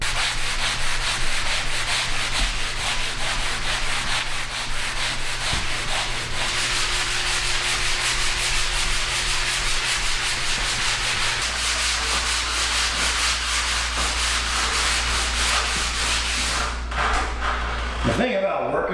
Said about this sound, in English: Now it's time for round 1 of sanding.